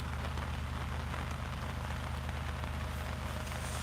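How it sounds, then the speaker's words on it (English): Steady rain falls on surfaces outdoors at night, a dense even patter with no breaks, fairly loud and close, no voices. "it's raining"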